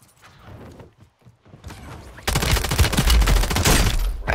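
Automatic gunfire in a multiplayer shooter video game, a dense close burst that breaks out partway through and keeps rattling to the end after quieter scattered shots.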